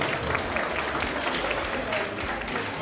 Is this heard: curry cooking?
no